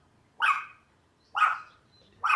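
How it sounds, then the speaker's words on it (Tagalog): A dog barks outdoors nearby, three sharp barks spaced about a second apart against quiet background. "May tumatahol pang aso sa paligid."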